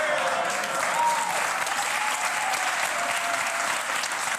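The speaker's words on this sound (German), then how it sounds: "Wird das Publikum dafür bezahlt, dass es ewig und 3 Tage wegen jedem Pups klatscht?" Studio audience clapping on a German TV cooking show, loud continuous applause from a large crowd that stays level throughout, with a faint tone briefly rising above it.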